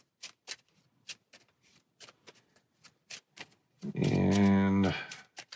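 Playing cards riffle-shuffled during a solo fantasy card game, a dense burst of rapid flutter lasting about a second near the end, preceded by scattered light taps and card handling.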